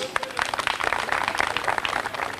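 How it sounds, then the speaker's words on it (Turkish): Strong applause from a picnic crowd at a Körfez Amasyalılar gathering, a dense, steady wash of many hands clapping with no pauses, fairly loud and sustained throughout. "Güçlü bir alkış."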